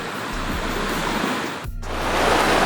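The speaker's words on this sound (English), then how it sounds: "It's just like the rock making like a little weir going across Arnfield Brook" Arnfield Brook pours steadily over a rock weir at Devil's Bridge, giving a loud, close, continuous rushing wash. A brief low thump sounds midway.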